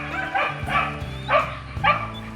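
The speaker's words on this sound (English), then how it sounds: "They're all barking at Allie, who's running down the fence with" Several dogs bark and yip in a few sharp bursts outdoors beside a garden field fence, moderately close.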